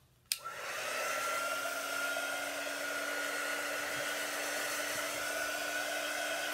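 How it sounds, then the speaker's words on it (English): A hair dryer switches on with a sharp click and then blows steadily at a constant whine while drying a handmade craft star, loud and close with no talking. "let me dry it just a little bit more"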